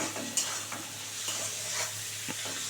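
Prawns frying in a pan before masala is added, for a prawn and flat-bean dish: a continuous close sizzle with a few light stirring scrapes and clinks, no voices.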